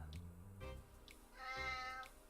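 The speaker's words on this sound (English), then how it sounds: "He's a chatty cat." A talkative house cat meowing indoors, a series of drawn-out, rising and falling meows with a longer middle call, close but quiet.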